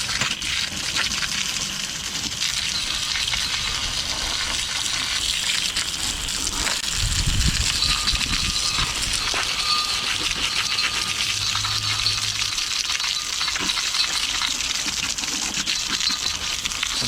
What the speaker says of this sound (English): we're just getting the hose and getting all that stuff